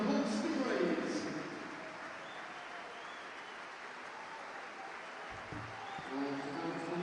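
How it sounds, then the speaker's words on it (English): Arena crowd applauding the visiting Hull Stingrays at an ice hockey game, a steady wash of clapping, loudest at the start and swelling again near the end, with the announcer's voice over it. "please put your hands together for our visitors this evening, the Hull Stingrays"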